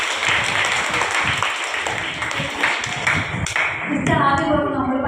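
An audience claps hands during a church sermon, a dense patter of many hands mixed with some voices, continuing for several seconds before tapering near the end.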